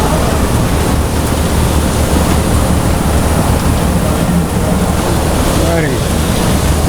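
Water squeezes out of a desiccated coconut screw press running at 70 psi air pressure, making a dense, continuous, loud rushing hiss that holds steady throughout.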